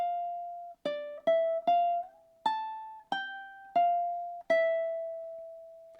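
A ukulele plays a short phrase of single plucked notes with sliding pitch changes, about eight clear notes ringing out and decaying, close and alone in a quiet room.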